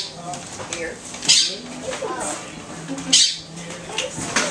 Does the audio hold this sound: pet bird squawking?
yes